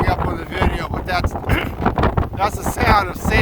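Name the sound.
wind-blown sand hitting rain gear on beach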